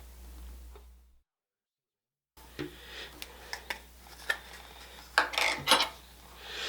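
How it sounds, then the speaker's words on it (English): Cake batter for a fruitcake being mixed in a bowl, a run of irregular scrapes, taps and clinks of a utensil against the bowl, close and moderately loud, after a brief silence. "We're just going to mix it all together here until it's just combined."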